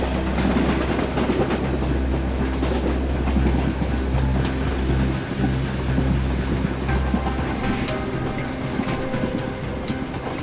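A passenger train rolls along, heard from inside a sleeper coach, with a steady loud rumble, rhythmic clickety-clack of the wheels, and occasional sharp metallic knocks.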